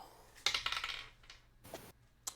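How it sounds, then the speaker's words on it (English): Dice rolled during a tabletop game session: a few sharp clattering taps and rattles on a hard surface, separated by short pauses, fairly quiet and close. "Let me just get out a dice real fast."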